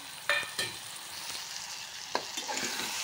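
Crushed peanut powder roasts in masala in a pan for a Maharashtrian amti, a soft steady sizzle marked by a few sharp scrapes and taps of a stirring spoon, with no voices.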